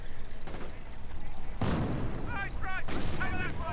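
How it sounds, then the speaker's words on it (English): Mortar rounds from a half-track land in Company of Heroes OMGmod, a heavy boom followed by scattered blasts and rumbling impacts, with a commentator's voice running over the game sounds. "Looks like he's probably going to mortar barrage it with his mortar."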